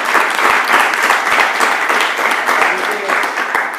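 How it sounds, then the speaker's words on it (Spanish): A live audience gives loud, dense applause at a Spanish-language talk on communication. The clapping is sustained and close, with voices mixed in. "Vamos a darle otro fuerte aplauso"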